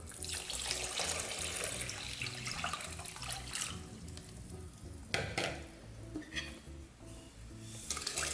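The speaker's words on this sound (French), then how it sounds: "Vous versez le sucre, vous ajoutez l'eau," Water is poured onto sugar in a pan for homemade mint syrup, giving a soft splashing, trickling flow that continues for several seconds at a gentle level with no talk.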